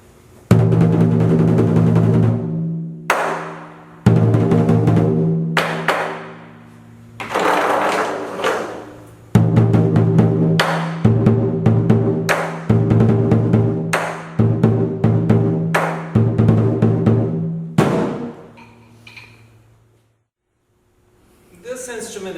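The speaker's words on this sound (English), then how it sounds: "And this is the sound of the drum." A Chinese drum with steel springs fitted inside is struck repeatedly, each close, loud hit ringing with a sustained metallic resonance, with short gaps between strokes and a quiet tail at the end.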